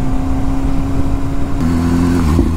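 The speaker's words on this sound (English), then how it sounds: "The throttle response on this BMW is just so fine." BMW motorcycle engine revving under the throttle, a loud, continuous close-up drone whose pitch climbs steadily toward the end.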